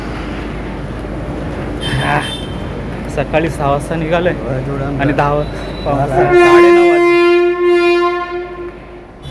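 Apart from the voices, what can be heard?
narrow gauge heritage train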